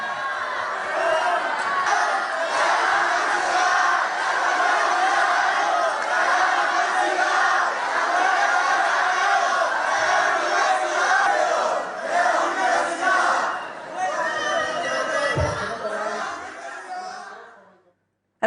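University students jeer and shout at politician Pablo Iglesias during a lecture-hall conference, a loud, sustained crowd roar of angry voices and calls that swells and dips before cutting off abruptly.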